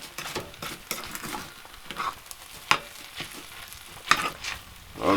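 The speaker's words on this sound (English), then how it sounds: "we're gonna start stirring in this egg" Egg being stirred and cooked in a pan while hot tenting outdoors in the rain: steady sizzling and frying with a spatula scraping and tapping at intervals, close and continuous, no talking.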